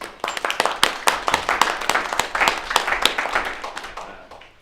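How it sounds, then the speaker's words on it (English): A room of people at a general council meeting claps in a lively round of applause, sharp individual claps audible within the mix, gradually thinning toward the end. "I would like a round of applause, please."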